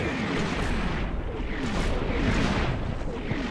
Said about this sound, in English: it's quite a bit of artillery that I called in